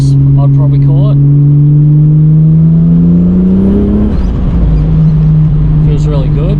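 Holden VL Turbo Commodore with CDI ignition revving, a loud steady engine drone that climbs in pitch then settles, heard from inside the car with someone talking over it.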